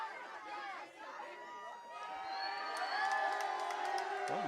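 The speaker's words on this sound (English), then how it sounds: "You hear this crowd very vocal." A vocal wrestling crowd at a GCW versus F.I.S.T. combat event chatters, cheers and whoops, swelling louder toward the end beneath voices talking over it.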